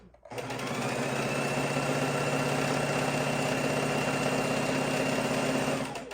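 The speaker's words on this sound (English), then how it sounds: "And I'm sewing straight across, corner to corner." A sewing machine stitches straight across fabric corner to corner for a fabric bowl cozy, running at an even, steady whir from start to finish after a brief start-up, close and loud.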